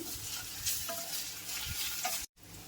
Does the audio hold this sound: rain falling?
no